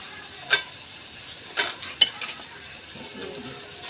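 Onions browning in a pot on a stove for a curry: a soft steady sizzle broken by a few sharp spoon clinks against the pot, with no talking.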